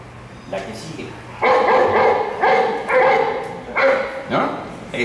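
A dog barks repeatedly in sharp bursts, several barks in a row with short gaps, fairly close and loud over a faint background.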